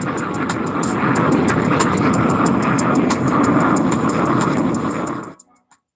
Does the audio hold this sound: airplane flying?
yes